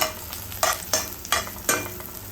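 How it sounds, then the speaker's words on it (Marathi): Chopped curry leaves dropped into hot oil crackle and sizzle, with a steady frying hiss broken by several sharp spatters and stirring scrapes. "आता यामध्ये चिरून घेतलेला कढीपत्ता घालायचा आहे"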